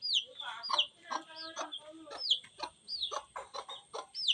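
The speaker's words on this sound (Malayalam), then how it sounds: "കോഴിയുണ്ട്." Chickens at a family home in Mulavana, Kerala cluck and squawk in quick, uneven bursts close by, with sharp rising calls punctuating the steady chatter of the flock.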